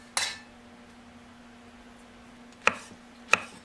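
A knife slices the root ends off shimeji mushrooms for a shiitake, bok choy and garlic stir-fry, giving three sharp, close cuts against a board: one at the start, then two more near the end after a quiet pause.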